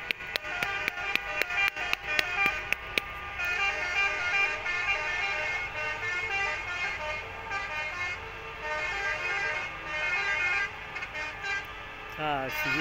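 A wedding convoy of cars and a truck honks as it drives away, with a burst of sharp repeated horn toots at first, then long sustained blasts from several vehicles layered together.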